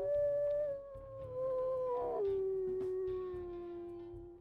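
A single long wolf howl from the WolfQuest video game, a clear mid-pitched tone that drops partway through and trails off, heard alone over faint background game ambience.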